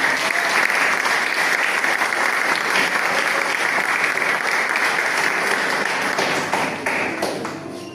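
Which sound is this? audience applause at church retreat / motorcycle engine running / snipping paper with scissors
audience applause at church retreat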